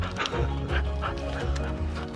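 A dog barks and whimpers in short, excited bursts at a beach, close by, with rough outdoor noise around it.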